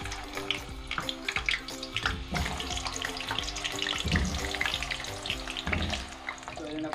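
Potatoes frying in hot oil in the same pan used earlier for onions, a dense bubbling sizzle that runs continuously with some clinks and scrapes mixed in.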